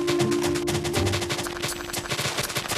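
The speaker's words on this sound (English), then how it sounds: "this fourth side I'm gonna manually use TNT to explode" Rapid bursts of TNT blasts in Minecraft, dense, loud and continuous, crackling overlapping explosions packed together like gunfire with no pauses throughout.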